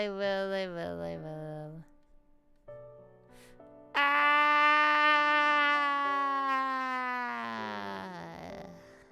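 A streamer's voice imitates a siren: brief vocal sounds, a pause, then one long loud wail that slowly falls and fades at the end.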